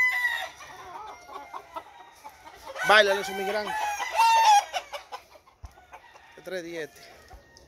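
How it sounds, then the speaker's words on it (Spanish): Roosters crow and chickens cluck at a cockfighting gallery, with a loud crow in the middle and another shorter crow near the end, while someone talks over much of it. "Están presentando gallinas hoy, muchachones."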